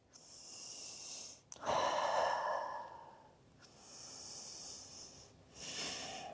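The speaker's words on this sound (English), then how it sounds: "Nice deep intentional breaths here." Slow, deep intentional breathing during a gentle yoga forward-fold stretch: a soft inhale, then a long, audible, breathy exhale and another calmer breath cycle, close and quiet with no talk.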